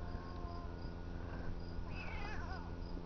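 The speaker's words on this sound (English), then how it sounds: "Yeah, there's my other cat." A single cat meows faintly indoors, a short rising-and-falling cry over a steady background hum.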